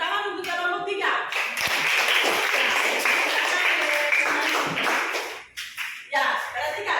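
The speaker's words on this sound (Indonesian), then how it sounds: "ya, tepuk tangan untuk kelompok tiga." A classroom of students claps for group three after a cooking-lesson presentation, a burst of close, uneven hand-clapping that swells and then fades out, with a few shuffles and a voice near the end.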